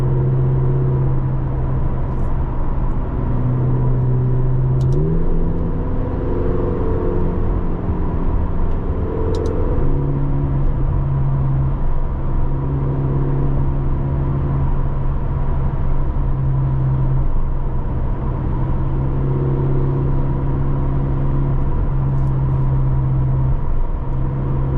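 A 2025 McLaren GTS engine pulls hard under acceleration, heard from inside the car as a loud, sustained drone that rises in pitch, drops at gear shifts, then climbs again.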